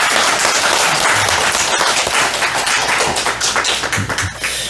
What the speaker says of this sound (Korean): 오늘도 우리를 이 자리로 인도해 주신 하나님께 감사와 영광의 박수 올려드리겠습니다